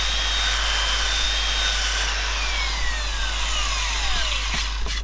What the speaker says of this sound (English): I'm just using the belt sander with 40 grit to cut that down.